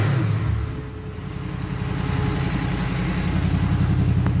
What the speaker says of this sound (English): There's the fan working.